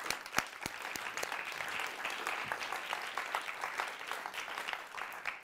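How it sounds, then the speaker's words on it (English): A room of attendees at a London learning and sharing event claps for the organisers, a fairly quiet but steady round of applause with some sharper individual claps standing out near the start. "can we just give them a round of applause"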